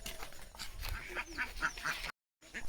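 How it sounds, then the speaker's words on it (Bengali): Ducks kept in a village yard quack in a series of short nasal bursts at close range, with faint background noise and a brief silent gap near the end. "এদিকে আমাদের হাঁস ছাগল"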